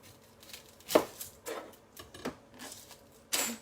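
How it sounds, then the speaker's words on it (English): Knife chopping through a large shallot on a board, a handful of separate sharp cuts spaced irregularly, the loudest near the start and a crisp one at the end, close and fairly quiet with no talk. "now we will chop some shallots"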